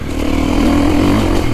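A 450 four-stroke off-road dirt bike engine revs hard and pulls steadily, a loud, continuous motor drone holding high RPM throughout with no talking.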